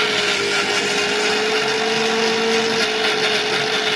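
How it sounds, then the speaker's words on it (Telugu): A mixer grinder runs continuously, grinding onions and chillies with a loud, steady motor whine and a gritty churning roar, close up and unbroken for the whole stretch, with no talking. "అంటే మిక్సీ పట్టుకుందాం"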